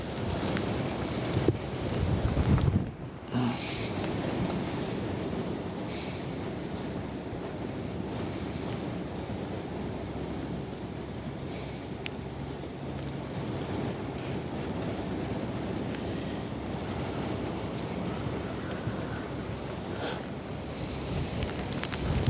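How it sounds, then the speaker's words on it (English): Strong wind buffeting a microphone beside the Westerschelde waterway during ship spotting: a loud, constant roaring rumble with gusty surges throughout, and a heavier blast near the start. "I'm getting blasted by the wind."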